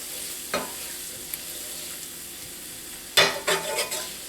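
Flour browns in oil in a pot for beef short ribs, giving a low, quiet sizzle with a single utensil scrape early on and a burst of louder stirring scrapes near the end.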